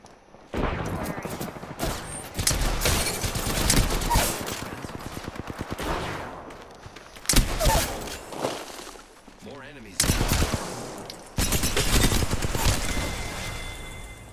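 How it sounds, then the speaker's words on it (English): Apex Legends gunfire in repeated loud bursts of rapid automatic shots separated by short pauses, with a voice talking over parts of the firefight. "I'm taking shots."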